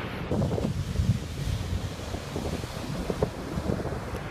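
Waves washing onto the beach at Arugam Bay, Sri Lanka, under steady wind buffeting the microphone, a continuous close rumble of surf with no talk.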